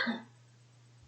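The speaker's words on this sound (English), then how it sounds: "I was coughing." A single short cough or throat clearing bursts out right at the start, then fades into a quiet room hum.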